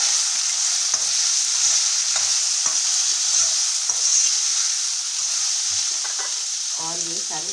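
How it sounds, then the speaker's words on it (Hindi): Boiled black chickpeas tossed into salt, crushed chili and chaat masala in a hot pan, giving a steady loud sizzle with stirring scrapes and clatter throughout, close by, ending with a brief burst of speech. "अब इसको मैं डाल दूँगी काले चने।"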